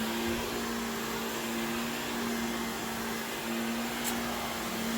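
A household vacuum cleaner runs steadily in a room, a continuous close whir with a fixed hum and no pauses or talk.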